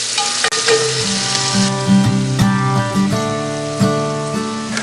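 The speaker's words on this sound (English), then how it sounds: "we'll go ahead and saute these off" Meat sizzles and sautés in a Dutch oven over an outdoor fire, a loud steady frying crackle with occasional scrapes and stirring knocks of the utensil against the pot, with music playing underneath.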